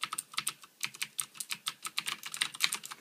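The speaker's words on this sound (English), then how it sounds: "This is the cherry blue switches, by the way." Someone types on a Ducky DK9008 Shine 2 keyboard with Cherry MX Blue switches, producing rapid, crisp, clicky keystrokes up close in an uneven stream with brief pauses.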